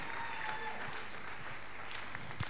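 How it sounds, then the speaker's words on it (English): A congregation claps steadily at a revival tent meeting, a dense continuous patter held at an even level, with faint sustained tones beneath and no speech. "Let's be clapping for them as they join us."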